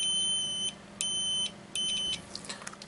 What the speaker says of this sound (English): I switch it on and I touch these two together, you should hear a beep.